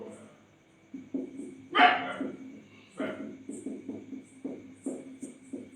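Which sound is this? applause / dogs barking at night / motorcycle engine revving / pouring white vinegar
dogs barking at night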